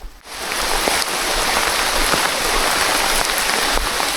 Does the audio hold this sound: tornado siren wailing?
no